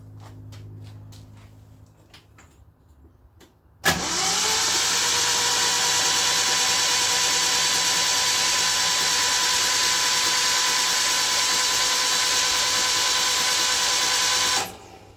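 A 1968 Datsun 1000 engine, recently found in a shed, cranks over on the ignition key with a loud, steady whirring drone that starts abruptly, holds for about eleven seconds, then cuts off.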